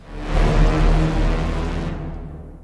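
A layered futuristic whoosh built in the Vital synth sampler: a dense, airy rush with a deep low rumble that swells up quickly, holds for a moment, then fades out over about two seconds.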